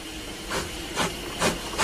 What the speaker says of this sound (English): A steam engine.